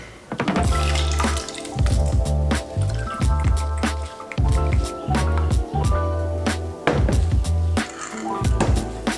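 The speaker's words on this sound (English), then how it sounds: "I'm using a second strainer along with a cheesecloth just to really get as much of that dry botanical out as possible" Oil dripping and trickling through a strainer lined with cheesecloth, loaded with dry botanicals, giving a steady run of loud, close wet drips and squishy splatters.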